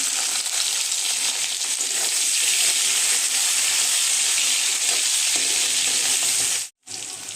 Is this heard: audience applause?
no